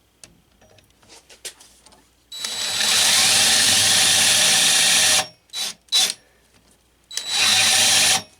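A power drill bores a hole for the headstock of a homemade lathe, running loud in a sustained burst of about three seconds, then in two short blips and a final burst after light clicks and handling.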